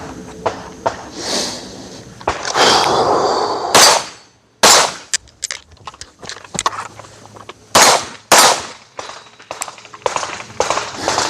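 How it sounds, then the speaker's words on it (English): Kimber KDS9C pistol firing at targets in sharp, loud shot pairs, one after another, with short pauses between strings as the shooter moves across targets; distinct cracks with brief echoes. "I'm gonna take a couple shots here, transition over here to this target, take a couple shots there"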